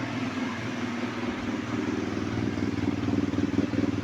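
A 2011 BMW R1200GS Adventure K25 boxer engine idles steadily close by, a low, even throb that grows slightly louder and more pulsing toward the end, with no voices.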